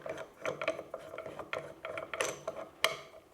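A woodworking clamp is tightened with small slide-on handles, giving a run of quick ratcheting clicks with a rough, uneven rhythm, close up and fairly quiet.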